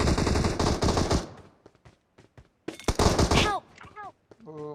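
Gunfire in a first-person shooting video game: a dense, loud burst of automatic fire, then scattered single shots and thuds, another heavy burst, and game chimes near the end, with players talking.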